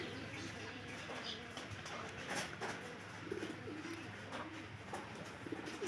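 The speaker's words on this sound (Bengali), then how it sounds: "আমার ওই পায়রাটা দেখতেছেন যে এটা কিন্তু অনেক গুণে বেশি ডাকে" Pigeons coo faintly in a rooftop loft, with soft, repeated low calls over a steady background hum and occasional light rustling.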